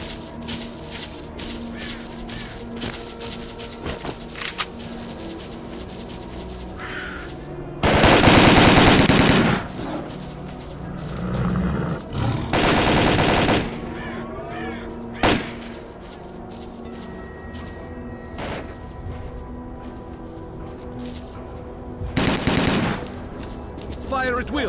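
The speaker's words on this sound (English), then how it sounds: "Check your weapons and fire at will." Bursts of automatic gunfire in the video game S.T.A.L.K.E.R. Call of Pripyat, with a few loud sustained volleys standing out over a steady backdrop of scattered shots and battle noise.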